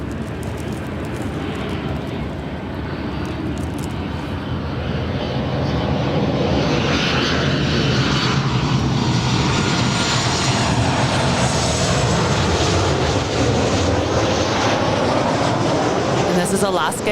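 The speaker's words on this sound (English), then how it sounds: "This is Alaska Airlines 304 coming in from Seattle, 737-900ER." An Alaska Airlines Boeing 737-900ER from Seattle arriving to land at LAX, its jet roar swelling as it approaches and passing close with a loud, rising whine and sweeping rush before easing off, with voices talking underneath.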